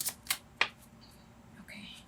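A deck of cards being shuffled in quick riffling bursts, close and soft, followed by faint rustling and handling sounds.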